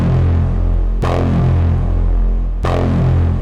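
Resonant synth filter sweeps downward into distortion and feedback, forming a thick buzzing drone that restarts twice with sharp bright attacks, each swept tone falling and darkening over about a second and a half.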